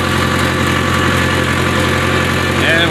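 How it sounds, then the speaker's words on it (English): A tractor engine runs steadily in a field, a loud continuous rumble at idle-like pace with no breaks, heard up close from the seat. "I came out here in the field today to sit on this tractor 2 or 3 hours"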